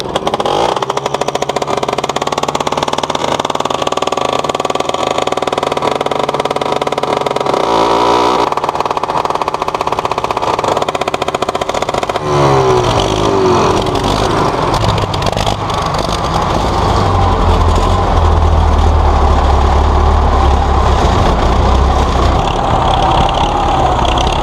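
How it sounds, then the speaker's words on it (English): A 1973 Belarus MTZ-50 four-cylinder diesel tractor is cranked by a 400cc gasoline starter engine: a loud, continuous mechanical drone shifts midway as the diesel catches, then settles into a deep, rumbling run that grows heavier toward the end. "Watch a 1973 Belarus MTZ-50, a four-cylinder diesel tractor, come alive using a 400cc gasoline engine to crank it."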